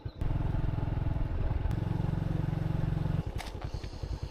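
Motorcycle riding along a road in rural Vietnam, its engine putting out a steady close, loud chugging that shifts pitch midway and then turns into rougher, uneven pulsing near the end.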